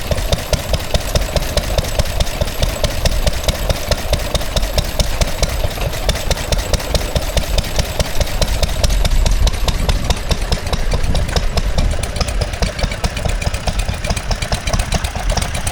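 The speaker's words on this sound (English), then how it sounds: "we now see another Lister D running an air compressor" A Lister D stationary engine driving an air compressor at a tractor festival runs steadily and loudly, with a continuous rapid knocking beat and no voices.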